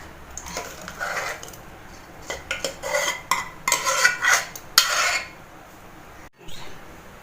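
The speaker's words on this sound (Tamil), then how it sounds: "இது ஒரு பாத்திரத்தில் நம்ம மாற்றிக்கலாம்" Cooked sago payasam is moved into another vessel with metal ladle and utensil clinks, scraping and clattering against the pot in bursts, close and fairly loud, then quieting.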